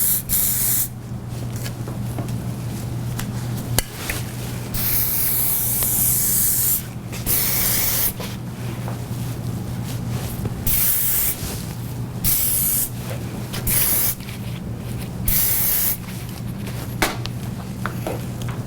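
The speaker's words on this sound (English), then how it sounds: "give it a little spray" Hairspray from an aerosol can is sprayed onto braided hair in repeated close, loud hissing bursts with short pauses between them, and no talk is heard.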